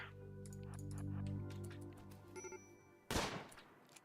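A short, sharp burst of gunfire in a RimWorld colony skirmish rings out near the end, following a stretch of tonal game music and soft clicks.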